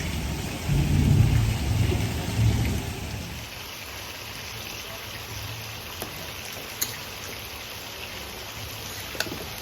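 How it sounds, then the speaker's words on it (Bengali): A low roll of thunder swells and fades over the first few seconds of a Mumbai downpour, then steady rain continues alone with a few faint ticks and drips. "মেঘ ডাকছে"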